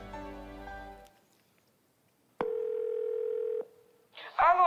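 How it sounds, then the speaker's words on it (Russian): A telephone dial tone rings out on stage during a KVN comedy final as someone calls their mother, a steady continuous beep of about a second following a sung phrase, then a voice answers. "Егор, можно я маме позвоню?"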